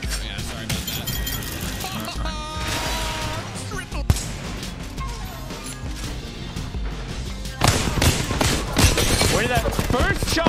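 Dense gunfire from the video game Apex Legends: rapid bursts and sharp shots rattle almost nonstop, with breaking-glass and impact crashes mixed in and a heavier barrage near the end. Voices can be heard faintly beneath the shooting.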